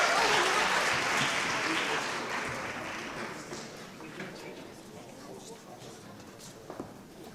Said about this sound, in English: Storm crew, give them a round of applause.